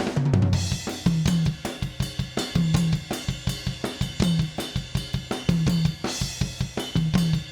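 A steady drum groove with punchy kicks and a repeating bass line, sounding roomy and blended, with no voices.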